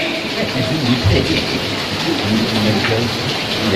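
Steady rain falls continuously, a broad even hiss of drops on surfaces with a low rumble beneath, heavy and constant throughout with no speech.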